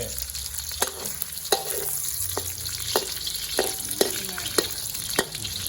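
Preserved radish frying in oil with pork cracklings, stirred steadily in a pan: a continuous sizzle with repeated sharp scraping clicks of the utensil every half second or so, close and alone.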